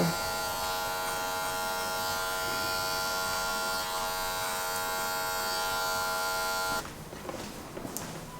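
Electric hair clippers cutting a high skin fade, a steady close buzzing hum with strong harmonics held for about seven seconds, then the motor stops and soft handling noises and light clicks follow.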